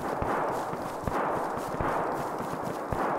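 Gunfire in a DayZ deathmatch shootout: rapid, repeated muffled shots in a steady crackling rhythm over constant background noise, with no voices.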